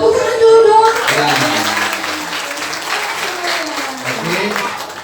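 A crowd of children at a Christmas church event claps and cheers in a burst of applause, loud at first and then sustained, with a few young voices calling out over it.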